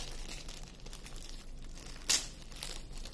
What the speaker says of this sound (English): So this is not that crinkly cellophane. This is like a softer plastic bag.